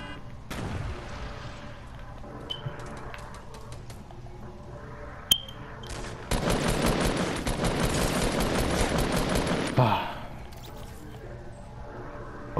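Fortnite gunfire erupts in a sustained burst of rapid automatic shots after scattered single cracks, loud and close within game ambience, with no talk.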